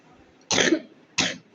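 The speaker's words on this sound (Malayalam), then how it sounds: "പാവം കൊച്ചിന് ചുമ വരും" A child coughs twice after eating hot chili during a mango eating challenge, two short harsh bursts close by, separated by a brief pause.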